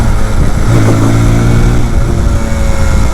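An engine drones loudly and steadily at close range, with a sustained low hum and shifting tonal whine as the vehicle keeps moving.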